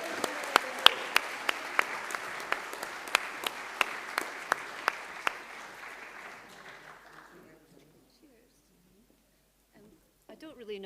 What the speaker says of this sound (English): I think we should keep clapping till you get here